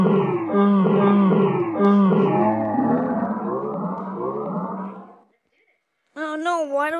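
A voice changer's very slow mode turns speech into a deep, drawn-out, groaning drawl lasting several seconds, then after a short pause a normal-sounding voice starts talking.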